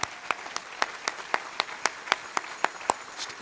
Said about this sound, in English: They deserve your recognition and applause.